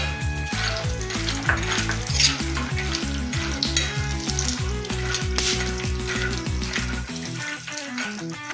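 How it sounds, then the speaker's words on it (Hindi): Cashews and almonds frying in ghee in a pan give a steady, close sizzle that runs throughout, partly masked by melodic background music. "अब ये काजू बादाम अच्छे से तल गए हैं।"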